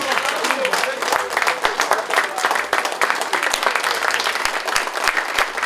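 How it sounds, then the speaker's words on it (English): A charity ball audience gives a standing ovation, steady dense clapping with cheering voices mixed in, loud and close throughout. "Can we give ourselves a standing ovation,"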